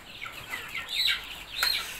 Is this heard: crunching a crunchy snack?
no